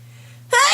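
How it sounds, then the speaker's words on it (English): A single sharp, loud sneeze bursts out at close range after a brief stretch of quiet with a low background hum. "I have to sneeze."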